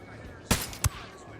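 Two loud gunshot bursts from a mounted weapon in Ghost Recon Wildlands, spaced about a third of a second apart, standing out over quiet game ambience.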